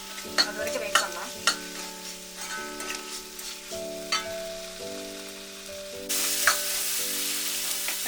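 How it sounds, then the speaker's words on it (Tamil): Tomatoes sauté in hot oil with green pepper for a vegetable gravy, giving a steady close sizzle and frying crackle, with scattered scrapes and clinks of a stirring spoon and soft background music, and no talk. "தக்காளி நல்லா வதங்கணும்"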